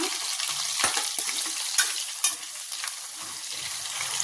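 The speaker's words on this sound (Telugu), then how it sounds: "ఇప్పుడు ఉల్లిపాయలు, క్యారెట్, ఇంకా ములక్కాడ వేసుకొని కొంచెం సేపు ఫ్రై చేసుకున్నా." Onions, carrot and drumstick pieces fry for sambar, a bright continuous sizzle with occasional stirring scrapes and spatula knocks, close up and without voices.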